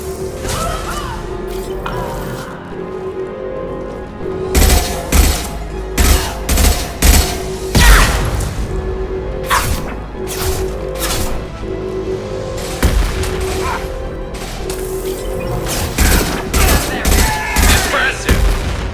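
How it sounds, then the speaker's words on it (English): Concussive shot and gunfire in the Mass Effect 2 video game: loud, close volleys of automatic fire and sharp blasts come in repeated clustered bursts over a sustained musical drone, with occasional voices between them. "Firing concussive shot!"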